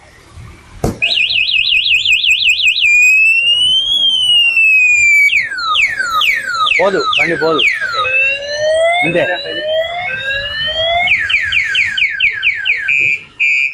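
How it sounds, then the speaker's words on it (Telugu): An electric scooter's anti-theft alarm sounds loud and close, cycling through warbling siren, rising and falling sweeps, and rapid chirping patterns in a continuous run, with a person briefly speaking over it. "సెకండ్ టైం తీసుకెళ్ళడానికి ట్రై చేసినప్పుడు వీల్ లాక్ అయింది, అంతేకాకుండా కంటిన్యూస్ సౌండ్ అయితే రావడం జరిగింది."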